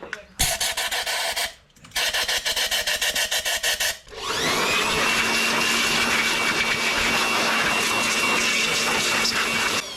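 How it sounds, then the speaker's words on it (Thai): An air blower drying a freshly washed car engine bay, aimed at the spark plug wells and distributor. It starts with short choppy bursts, then settles into a loud, continuous hissing roar close by. "เรียบร้อยก็เป่าให้แห้งครับคราวนี้ โดยเฉพาะในร่องหัวเทียนแล้วก็ในจานจ่าย"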